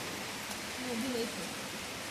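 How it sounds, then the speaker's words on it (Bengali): Heavy rain falls in a steady, even hiss across the whole stretch, with a faint voice murmuring low in the background. "বৃষ্টি হচ্ছে এখন"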